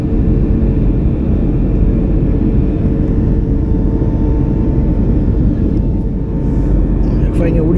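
A loud, steady aircraft engine in a video game drones continuously, a deep rumbling hum that never lets up.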